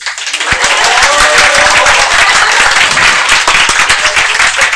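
Students in a chartered accountancy lecture break into loud, sustained applause, a dense wash of many hands clapping that starts abruptly and continues without a pause.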